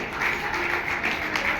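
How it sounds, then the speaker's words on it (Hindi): An audience at a devotional Hindu katha gathering claps together, a steady, moderately loud patter of many hands throughout, with a faint voice underneath. "एक ताली जोरदार भैया के लिए।"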